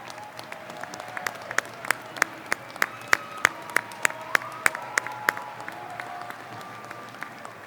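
An audience at a university winter commencement applauds the graduates' families, a sustained round of clapping with sharp individual claps standing out over a softer crowd wash.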